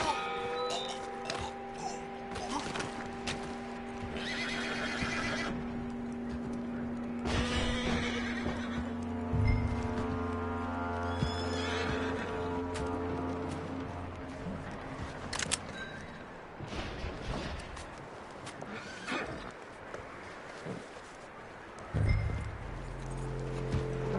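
A horse whinnies and its hooves clop in Red Dead Redemption 2. Several bursts of neighing and footfalls rise over a sustained musical score, fairly near and moderately loud.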